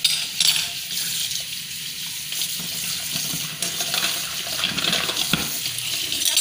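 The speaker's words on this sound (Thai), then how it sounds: "เทน้ำยาทิ้งนะคะแล้วก็ล้างด้วยน้ำสะอาด" Clean tap water runs and splashes steadily over a jade face massage tool being rinsed in a sink, a continuous close hiss with small shifts as the tool moves under the stream.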